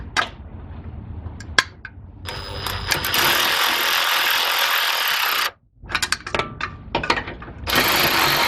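Ratchet clicking as a bolt is run down on the front end of a Dodge Charger, Magnum or Chrysler 300 during suspension repair, with bursts of fast close clicking broken by short pauses, no talk.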